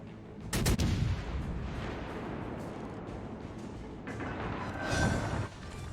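Torpedoes fired in a naval combat video game, heard as sharp booming launch bursts just before the one-second mark and again near the five-second mark, over a steady rumbling game background.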